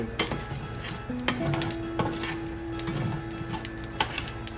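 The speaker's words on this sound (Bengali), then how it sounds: "তেলটা গরম হয়ে গেছে আমি এর মধ্যে কিছুটা সাদা জিরে মশলা দিয়ে দিলাম" White cumin seeds sizzling in hot oil: a steady close frying hiss with sharp ticks and clinks of a utensil against the pan at intervals, running throughout with no voices.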